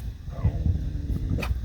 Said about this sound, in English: She's growling at Sacagawea.